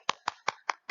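Children clapping their hands in a classroom: five sharp, evenly spaced claps in about a second, fairly close and loud, with no talking.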